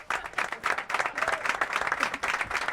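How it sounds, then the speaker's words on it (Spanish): Applause sound effect played for Ábalos, guitarist of Los Persas and Los Piojos, on a reaction stream: brisk clapping of a small group in quick bursts, moderately loud, with no voices over it. "Voy a poner un aplauso para Ábalos."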